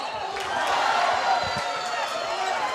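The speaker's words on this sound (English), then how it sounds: "you can hear the crowd not happy" Basketball arena crowd at a men's college game reacting with a loud, sustained murmur of disapproval after a big collision under the basket, a steady wash of many voices with faint bursts of court noise.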